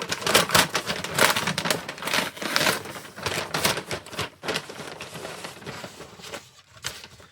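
A LEGO set's paper bag crinkles and rustles loudly up close in rapid bursts as it is tugged and pulled open by hand, with no voices.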